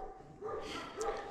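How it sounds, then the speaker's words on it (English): A livestock guardian dog at a farm dog rescue gives a couple of short, faint barks and yips, fairly distant and quiet. "Livestock guardian dog."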